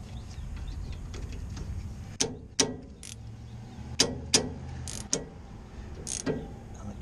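A ratchet working on the brake caliper bolts of a 2013 Ford F150, a few sharp, close metallic clicks and short bursts spaced over several seconds against a low background hum, no speech.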